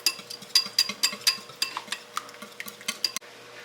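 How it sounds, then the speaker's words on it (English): An egg whisked briskly in a bowl, a quick run of sharp, rhythmic metallic taps and clinks of the whisk against the sides, close and fairly loud, gradually easing off before stopping. "Whisk your egg up in there."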